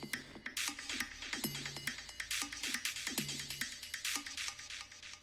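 Crisp psytrance percussion hits in a steady rhythm, each followed by fading repeated delay echoes that trail off, with a low tonal thump under some beats.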